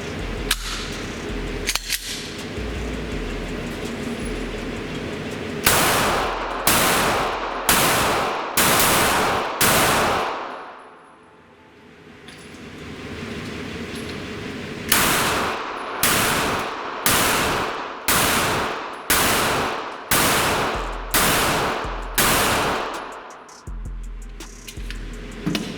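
A Taurus G3 9mm pistol fires in two strings of rapid, evenly spaced loud shots, about nine in the first and ten in the second, separated by a quieter gap, close to the listener, with no voices.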